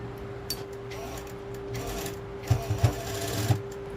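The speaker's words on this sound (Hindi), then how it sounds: "इस वाली सिलाई से अंदर की साइड में आपको सिलाई लगानी है" A sewing machine stitches a short kurti, a steady mechanical whir running throughout with a few louder thumps near the end, close and fairly quiet with no talk.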